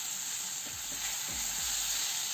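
Blanched cauliflower fries with spices in a pan, giving a steady broad sizzle with a few soft stirring scrapes close by and no voices.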